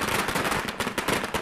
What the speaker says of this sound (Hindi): रामनगर में बीजेपी कार्यकर्ताओं ने आतिशबाजी की,